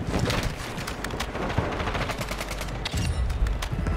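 Dense, continuous gunfire in the shooter game Warzone 2: rapid automatic bursts and overlapping shots, loud and close, with booming impacts mixed in.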